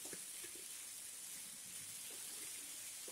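Potatoes fry in a pan over medium flame, giving a soft, steady crackling hiss with faint scattered ticks from stirring, quiet and continuous throughout.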